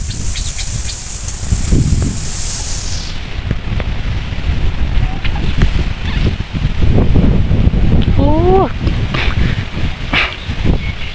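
Strong storm wind gusts across open rice fields on a farm, a loud continuous roar with heavy microphone buffeting throughout, and a few faint rising tonal chirps midway.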